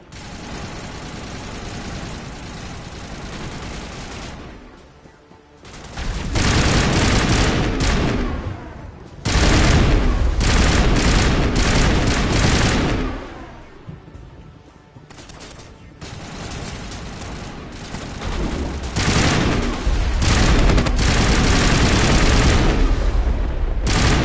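A mounted gun fires long, loud automatic bursts in Mass Effect on Virmire, sustained volleys broken by brief lulls and booming impacts, with no talk.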